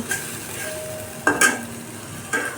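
Ginger paste, cumin paste, turmeric and salt with potato and onion fry and get stirred in a pan, a steady close sizzle broken by a few louder scraping stirs.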